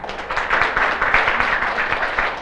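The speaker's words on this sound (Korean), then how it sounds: "박수 한번 주세요." A seated audience at a Korean business presentation claps together, a moderately loud, even patter of many hands with faint individual claps standing out, sustained throughout.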